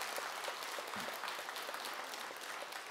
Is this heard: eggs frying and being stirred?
no